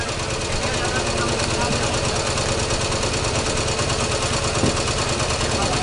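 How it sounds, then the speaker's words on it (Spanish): A German motorcycle with sidecar at a World War II reenactment of a bunker assault in A Coruña runs its engine close by, a loud, steady, throbbing idle that holds without pause throughout. "Vemos como una moto con sidecar alemana"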